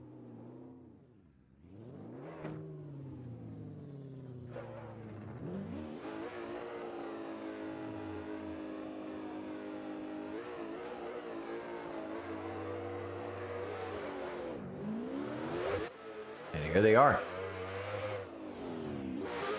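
A drift car engine revs hard during a drift competition at Castelletto, rising and falling in long, loud sweeps as the car accelerates through the run, with rumbling and tire noise underneath and a brief voice near the end.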